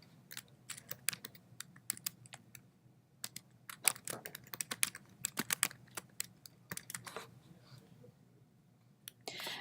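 Rapid irregular typing on a computer keyboard, close and fairly quiet, with bursts of clicking keystrokes and short pauses, no talking.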